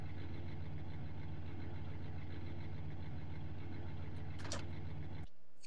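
Mojave, a big pickup truck in the Scarface PS2 video game, its engine idling with a steady low rumble for about five seconds, a brief higher rev near the end before cutting off.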